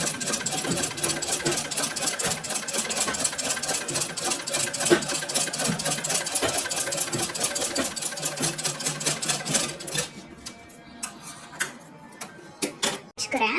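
A tailoring sewing machine runs steadily, stitching fine, tiny stitches through a cloth practice piece with a fast, even mechanical ticking, then stops after about ten seconds, leaving scattered clicks and handling noises.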